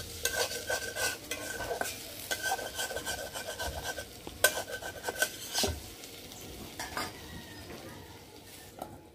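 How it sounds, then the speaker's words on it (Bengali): Potatoes frying in oil in a village kitchen, stirred with a metal utensil: repeated scraping and clinking strokes against the pan over a steady low sizzle, close and fairly loud, with no talk. "আলু ভাজা এই যে আবার তেল দেওয়া হইল"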